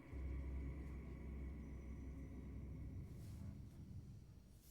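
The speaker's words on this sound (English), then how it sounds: "I think I hear thunder. There is a storm coming." Thunder from a storm in the Assassin's Creed Shadows video game rolls as a faint, low, sustained rumble that eases slightly toward the end.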